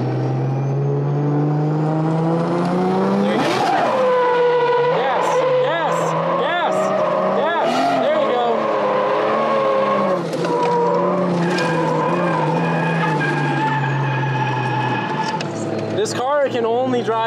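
A Chaser car does burnouts and drifts, its engine revving high with long, wavering tire squeals and skidding, loud and close, while people talk over it.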